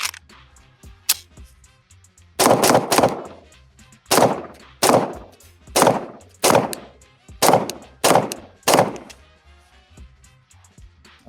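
A CZ P09 Nocturne pistol fed from a CZ-75 magazine fires about a dozen loud, sharp shots, first two spaced apart, then a quick rhythmic string at roughly half-second intervals.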